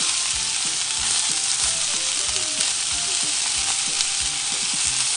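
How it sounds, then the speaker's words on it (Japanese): Meat-wrapped tofu sears in a packed 28 cm Vita Craft Super Tech frying pan, a loud steady sizzle with occasional soft scrapes and knocks, no speech. "1分半ぐらいずつ全体の面を焼いて焼き目をつけるよ"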